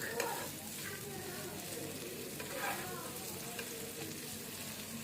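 Chopped onion frying in hot oil in a pan for noodles, giving a steady, close sizzle and crackle that runs unbroken with only slight swells in loudness.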